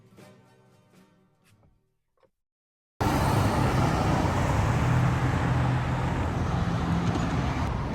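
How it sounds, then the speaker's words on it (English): Cars pass on a street outside a pizza shop. After about three seconds of near quiet with a few faint sounds, dense, loud roadway noise cuts in and stays close and continuous. "A lot of cars are passing by"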